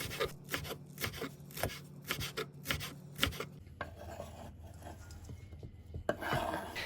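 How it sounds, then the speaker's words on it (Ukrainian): Rapid rhythmic knife chops on a board as dill and green onions are cut, crisp and close, then a pause with soft rustling and a final scrape. "нарізаю кріп та щепір'я цибулі, додаю до капусти"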